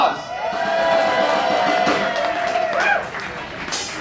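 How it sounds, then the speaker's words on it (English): Crowd at a New Orleans cigar box guitar festival applauds and cheers, sustained clapping with a long whoop rising above it, loud and near, fading after a few seconds. "Give yourselves a round of applause."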